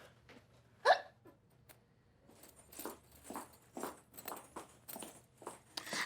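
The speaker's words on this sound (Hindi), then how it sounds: "ये तो मुझे हिचकियाँ सी आ रही हैं" A woman hiccups several times after eating rabri in a domestic scene, one sharp loud hiccup followed by a run of softer, evenly spaced catches, heard fairly close with faint background hum.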